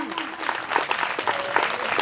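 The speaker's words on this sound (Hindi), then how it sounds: "ताली इतना जोर से होना चाहिए" A church congregation at a Sunday meeting claps loudly, a dense, sustained burst of applause with sharp individual claps standing out, with no voices.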